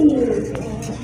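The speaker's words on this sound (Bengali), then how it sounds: "এখানে কিন্তু দেখতে পাচ্ছেন এক জোড়া রাজগোল্লা কবুতর, হিউজ সাইজের কবুতর।" A pair of huge Rajgolla pigeons, the female yellow, gives a brief, low, steady coo, close and fairly loud, with no talking.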